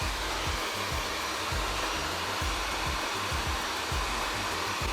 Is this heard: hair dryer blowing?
yes